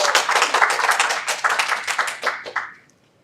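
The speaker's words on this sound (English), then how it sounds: "Big round of applause as she makes her way to the lectern." Audience applause at a talk on reducing kerbside recycling bin contamination as a presenter walks to the lectern; dense, steady clapping that continues for a few seconds, then thins out and fades to quiet.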